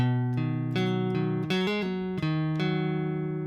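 Low guitar strings (6th, 5th and 4th) plucked one after another in a steady fingerpicked pattern, each note ringing and overlapping into a sustained chord, close and clear.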